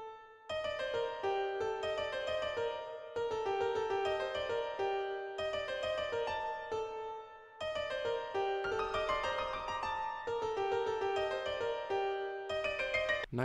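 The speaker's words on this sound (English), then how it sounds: "just a top line piano melody." Yamaha grand piano playing a top-line melody in a dark trap beat, clear sustained notes in repeating phrases with brief gaps, loud and alone with no voices.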